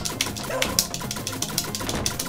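A dog barks in the arcade game Shadow Dancer, a few short sharp yaps repeating in quick succession over game music and engine-like background noise.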